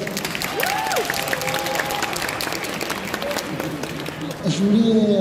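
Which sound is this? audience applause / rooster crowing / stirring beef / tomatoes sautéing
audience applause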